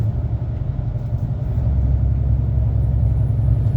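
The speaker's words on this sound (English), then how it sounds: "as another truck passes me at speed, the opposite direction, you get that vortex of a gust of wind" A heavy goods vehicle roars past at speed in the opposite direction on the A66 in Cumbria, heard from a truck, with a rush of wind, the low engine rumble swelling and staying loud throughout.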